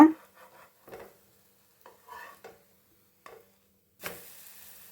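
A frying evening snack sprinkled with sesame is flipped in a pan, with soft scattered scrapes and light sizzling taps, then a brief louder sizzle near the end, all fairly faint and close.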